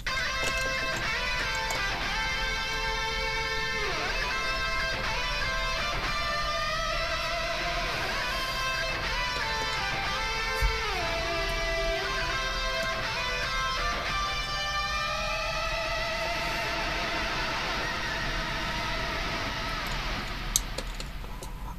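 A synth lead plays a video game battle theme cover melody with a harmony line, sliding into notes and bending pitch, with a wild bend at the close. It plays steadily and moderately loud, with no voices.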